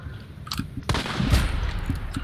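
Sharp gunshots in the video game Hunt: Showdown, a few abrupt cracks with a louder blast near the middle, heard amid faint background game noise.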